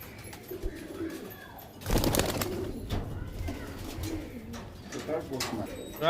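Soft cooing of Rampuri pigeons runs throughout, with a brief rustle or flutter near the start and faint background noise.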